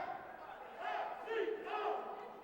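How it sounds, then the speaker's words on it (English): Cheerleaders in the crowd at a women's college basketball game, Jefferson College Lady Vikings against State Fair CC Roadrunners, chant in three rhythmic shouted bursts, echoing through the gym. "Cheerleaders in the crowd chanting"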